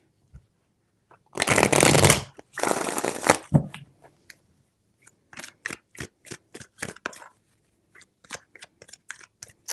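Two quick riffle shuffles of a card deck up close, then a run of light clicking taps as cards are handled and set down.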